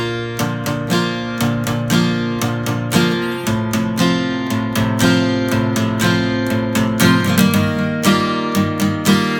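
An acoustic guitar strums chords in a steady repeating pattern of quick strokes and ringing sustained ones, close and full, with no voices.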